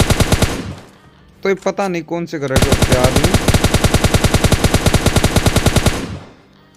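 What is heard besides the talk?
gunfire in PUBG Mobile Lite video game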